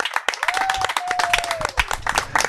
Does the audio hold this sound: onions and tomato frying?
no